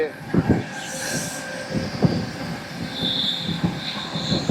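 The 12379 Jallianwala Bagh superfast express running from Kolkata toward Delhi, heard from inside a carriage as a loud steady rumble with rhythmic wheel clacks and a faint high squeal.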